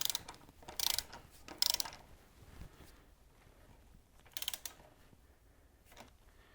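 A ratchet tightening the fork clamp bolts on a Harley during neck bearing work: quick bursts of rapid clicking, close up, with quiet pauses between strokes.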